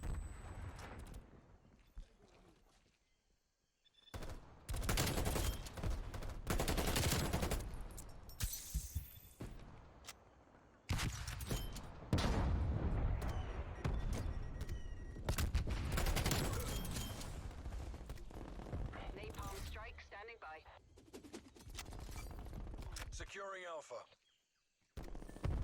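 Krig 6 assault rifle gunfire in Black Ops Cold War rattles in long, dense automatic bursts with brief pauses and some shattering impacts. Game voices and effects are mixed in, and it is loud and close throughout.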